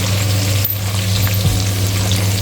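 Curry frying (bhuna) in a pan, giving a loud, steady close-up sizzle throughout, with a brief dip and a faint stir or scrape midway.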